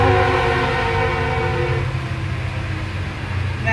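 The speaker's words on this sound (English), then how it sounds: "We get several trains a day, and you can probably see it there in the background going by." A train horn blares with sustained tonal blasts as a train rumbles past near a glass-blowing studio, loud at first and then fading into the rolling rail noise.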